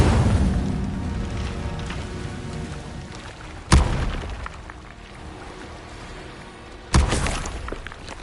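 The Incendio fire spell in Hogwarts Legacy lands as two sharp, loud bursts a few seconds apart over a steady crackling, rushing background.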